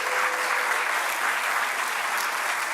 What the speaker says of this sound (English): can we give another round of applause for FIT,